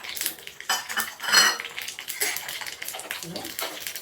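Cashews tipped into a hot pan for sweet pongal, with close, bright clattering and scraping of a utensil against cookware and a sizzling hiss throughout.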